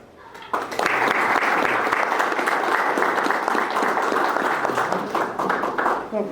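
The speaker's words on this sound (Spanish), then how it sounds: "Un fuerte aplauso" Audience applause at a university political communication event, starting abruptly after a brief pause and holding as a steady, even round of many hands clapping, then tapering slightly at the close.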